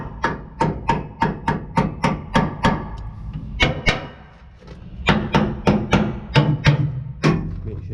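Rapid sharp metallic taps ring out on a trailer's nuts and bolts during an inspection, a quick rhythmic run of strikes, a short pause, then another fast series, close and fairly loud.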